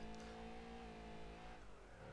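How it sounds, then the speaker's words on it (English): A car in a racing video game revs through an aftermarket exhaust with a rough, droning note, holding steady then dropping off near the end. "This car sounds awful. I think it's the aftermarket exhaust I put on it."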